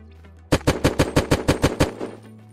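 Rapid burst of about a dozen evenly spaced gunshots from an automatic weapon in the survival video game Unturned, loud and close, starting abruptly after a quiet low hum and fading into a brief tail.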